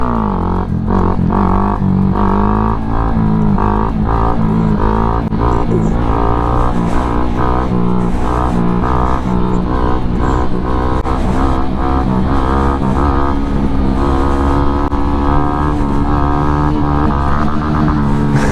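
A Honda Grom 125cc motorcycle rides in second gear, its loud, close engine revving up and down in repeated surges over a long continuous run.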